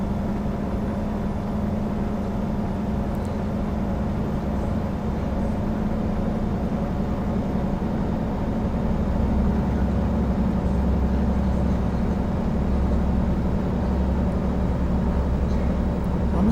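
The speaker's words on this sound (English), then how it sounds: "I'm still picking up truck noise" Steady low engine drone of a truck heard from inside, continuous and fairly loud throughout, with a constant hum and no talking.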